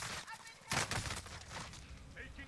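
Enemy gunfire in the online shooter Warzone 2.0, a burst of loud crackling shots that starts partway through, then keeps popping irregularly over a steady battle din.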